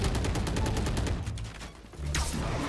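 Rapid automatic gunfire in the Valorant game rattles loudly and continuously, breaks off briefly, then resumes in another dense burst.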